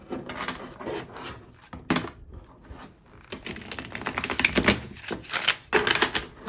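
Tarot cards shuffled and pulled by hand, a busy dry riffling and rubbing of card stock in irregular bursts with brief pauses, close and moderately loud, no talk.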